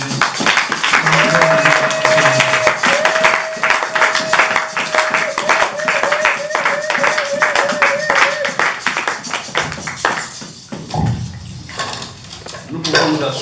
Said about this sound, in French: Mettons-nous debout et acclamons pour le Seigneur